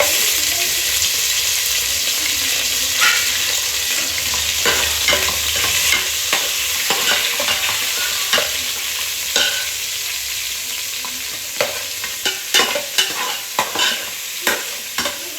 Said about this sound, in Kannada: ಈಗ ಆಯಿಲ್ ಮತ್ತು ಈರುಳ್ಳಿಯನ್ನು ಫ್ರೈ ಮಾಡಿಕೊಂಡು ಮೂಳೆ ಇದೆಯಲ್ಲ ಇದನ್ನು ಹಾಕ್ಬಿಟ್ಟು ಚೆನ್ನಾಗಿ